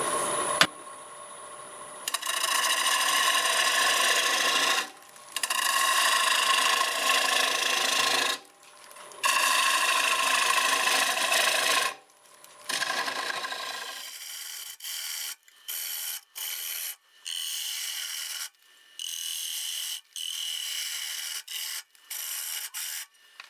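A wood lathe turning at about 820 RPM while a 5/8 bowl gouge cuts the inside of an oak bowl, giving a steady rasping, scraping hiss in long passes separated by short pauses, then shorter cuts and gaps toward the end.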